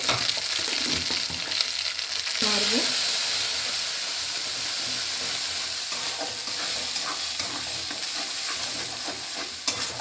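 Ground cauliflower-leaf paste fries in oil with a steady, dense hiss, while a spoon stirs and scrapes it in a pan, continuous and fairly close.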